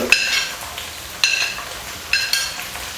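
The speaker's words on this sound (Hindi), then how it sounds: "अब हम इसमें जनाब डालते हैं टमाटर" Finely chopped tomatoes tipped into a pan of frying aloo anday ka salan, giving three sharp sizzling bursts with metal stirring clatter, settling into a low steady fry between them, close and fairly quiet with no talking.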